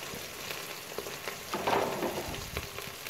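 Curry leaves, ginger and green chili frying in hot sunflower oil while samosa filling is prepared: a steady close sizzle with scattered sharp crackles and pops, rising briefly in the middle.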